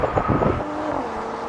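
Several performance sedans, a BMW M340i, Audi S4, Mercedes-AMG E53 and Volvo S60, accelerating side by side in a drag race, heard as a loud, rushing engine roar with wind buffeting that settles into a steadier drone.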